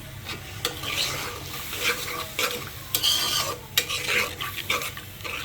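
Spice paste sizzles and fries in a pan for chicken curry while a spoon stirs and scrapes it in steady, irregular strokes, close and moderately loud, with no talking.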